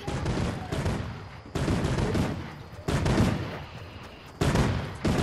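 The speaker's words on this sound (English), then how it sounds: "Where is he shooting that gun from?" Sustained gunfire in Fortnite comes in dense, heavy bursts with brief dips between volleys, loud and close throughout.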